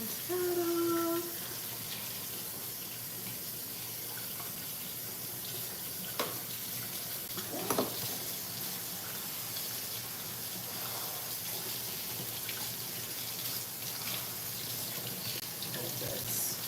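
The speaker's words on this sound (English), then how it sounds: "I like to rinse stuff off right away." Tap water runs steadily into a kitchen sink while dishes are rinsed: a continuous, close, loud hiss and gush with a few clinks over the top.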